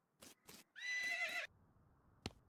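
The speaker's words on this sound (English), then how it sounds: "Hello, drunk horse." Drunk horse in the video game West of Loathing lets out a single loud whinny after two soft hoof clops, followed by one sharp knock, otherwise quiet.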